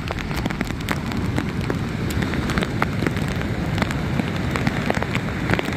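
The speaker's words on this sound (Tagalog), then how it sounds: "Lumakas na naman yung ulan mga katsong" Heavy rain pours down steadily, dense crackling drops hitting a surface close by, loud and unbroken, with no voices.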